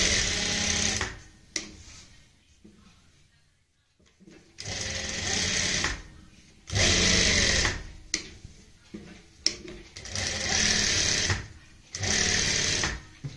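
A sewing machine stitches a neckline over buckram stiffening on printed fabric, running in several sustained bursts with short pauses between them, close and steady.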